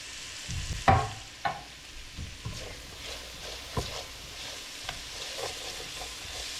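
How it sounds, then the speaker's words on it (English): Onions frying in a pan with a low steady sizzle, broken by a few sharp clatters and scraping stirs; no voices. "I'm gonna add the onions now."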